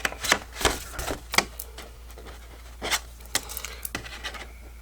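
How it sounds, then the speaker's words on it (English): Several sharp, crisp snips in irregular bursts, close by and fairly quiet, with short pauses between cuts. "So I'm just going to snip that away."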